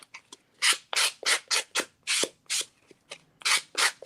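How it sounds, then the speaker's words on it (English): A sanding block nail buffer is scraped in quick repeated strokes, about a dozen dry, raspy rubs in an uneven rhythm, close and clear with no voices. "This is a sanding block, also called a nail buffer"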